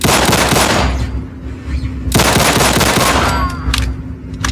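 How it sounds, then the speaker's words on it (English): A pistol from a modern weapon pack in Fallout 4 fires very quickly in two loud, close bursts of rapid shots, with booming impacts and a brief lull between them. "For a pistol, it fires very fast"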